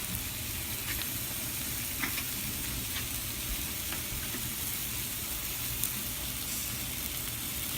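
Chile relleno batter frying in a hot skillet, a constant soft sizzle and hiss with faint crackles and pops, close and steady throughout.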